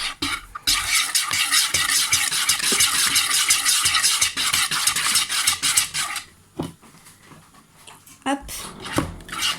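Madeleine batter for Nutella-filled madeleines is whisked quickly in a bowl, a dense run of rapid scraping strokes that breaks into scattered knocks, with a person talking over it.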